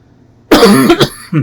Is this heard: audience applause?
no